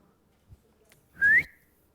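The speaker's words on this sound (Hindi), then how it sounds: "किसने सीटी मारी?" A single short rising whistle from a person, close and clear, lasting under half a second in an otherwise quiet room, preceded by a soft thump.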